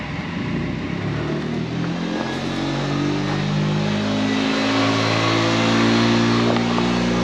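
Electric motor on a Volkswagen electric race car left sitting over 25 years, driven under throttle: a steady, loud whine with rising harmonic tones that hold continuously throughout, no talking.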